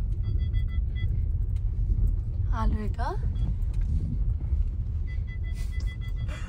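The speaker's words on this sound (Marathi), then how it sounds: "गाडी इकडनं चढणार वर." A car climbs a narrow little road toward a farmhouse near Nashik, giving a steady low engine rumble heard from inside the cabin while people talk throughout.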